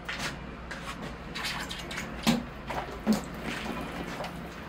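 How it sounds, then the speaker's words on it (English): Water poured onto a Serissa bonsai being prepared for a show, a soft trickling splash with a couple of brief louder drips, no talking. "All right, here I go with the water."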